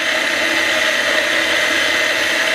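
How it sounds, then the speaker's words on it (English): Grizzly CNC mill spindle running, a steady close whirring hum with a high mechanical whine, unchanging throughout and with no talk over it. "I'm going to go ahead and turn on the spindle."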